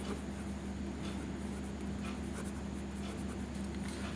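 Pen scratching across paper while an accounting entry is written, a faint, close, continuous rustle of short strokes under steady background hiss, with no talking.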